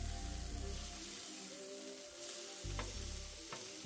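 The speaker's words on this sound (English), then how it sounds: "And then we'll go ahead and flip these burgers." Seasoned burger patties sizzling on a flat griddle after flipping, a steady soft frying hiss with a low background hum and a couple of brief scraping clicks.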